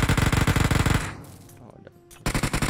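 In the mobile game PUBG Mobile, loud rapid automatic gunfire bursts sharply, stops for a quieter gap, then a second close burst of rattling shots opens up.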